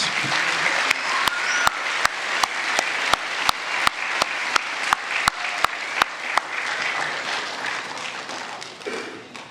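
A crowd at a school awards day applauds steadily for several seconds, with a few loud rhythmic claps or taps standing out on top before it fades.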